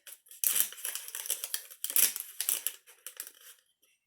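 Scissors snip steadily through white copy paper to cut out a circle, a dense run of close, crisp cuts and paper rustles with no talking.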